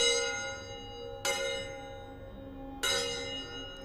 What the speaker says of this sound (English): That's the triple gong for this bad boy.